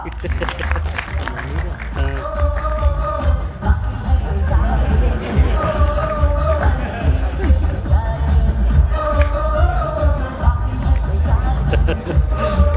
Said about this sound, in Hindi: तो जोरदार तालियों से स्वागत करिए बलवान खान जी का